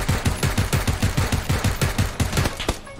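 Rapid automatic gunfire in a video game: a steady stream of about a dozen close, punchy shots over three seconds, evenly spaced, then a brief stop and a final shot.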